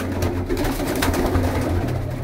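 A pair of pigeons, a female and a male, cooing softly and continuously under a steady background noise, close by.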